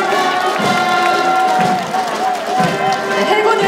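A large crowd at the Jinhae naval port festival military band event cheers and claps in a dense, continuous roar as a navy honor guard enters, loud and close, with voices mixed through it.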